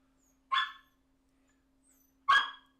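Dog sound from the Howl emote in City of Heroes, two short, sharp barks or yelps about two seconds apart, clear and isolated against near silence with a faint steady hum.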